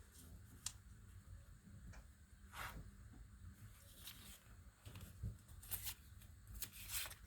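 Soft, close rustling and light paper flicks from shuffling through a stack of magazine cutout images, faint and irregular with occasional crisp ticks.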